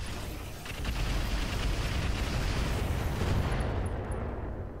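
Weapon fire and an explosion in a mech combat video game: a loud, dense broadband roar that swells after the first second and holds steady before easing slightly at the end, with no voices.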